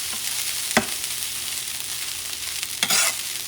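A spoon stirs rice and pigeon peas in a pot over a steady sizzle, with a couple of distinct scraping strokes standing out nearby.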